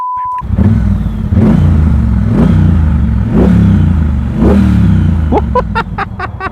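A Triumph Bonneville Bobber motorcycle engine runs near 1000 RPM, a loud, close, low rumbling idle with a steady pulsing beat, brief throttle blips toward the end and no speech.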